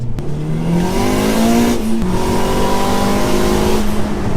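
Engine of a modified 500 bhp Honda Civic Type R blipping its revs automatically up to around 5,000 rpm on a downshift into third under braking, a loud, close, rising rasp that dips and then holds steady.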